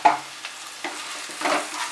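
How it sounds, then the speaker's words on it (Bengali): Egg bhurji mixture with chilli powder, green chillies and salt being stirred in a pan, a few short scraping strokes with soft sizzling between them. "ভালো করে মিক্সড করে নিয়ে"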